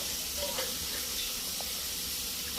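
Onions and chillies sautéing in a pan for ulli theeyal, a steady close hiss and sizzle filling the whole span with a soft voice faint beneath.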